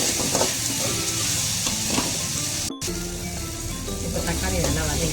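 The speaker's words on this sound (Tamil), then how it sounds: "இந்த தக்காளியும் நல்லா வதங்கணும்." Chopped tomato sautés in a pan for egg manchurian, a loud, dense sizzle with occasional stirring scrapes, briefly cut by a moment of silence partway through.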